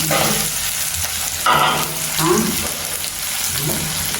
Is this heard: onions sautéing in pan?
yes